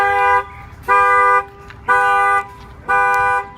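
A 2015 Nissan 370Z alarm with an add-on shock sensor, set off by kicking a tire; four loud, evenly spaced horn-like blasts, each about half a second long, repeat in a steady rhythm.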